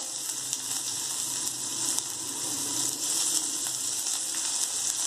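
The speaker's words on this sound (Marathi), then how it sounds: "हळद आणि कांदा टाकून घेऊयात कांदा आपण छान परतून घेऊया" Onion and turmeric, with curry leaves, coriander and chilli pieces, sizzle and fry in a pan for an Indian potato filling, a steady close crackling hiss with no speech.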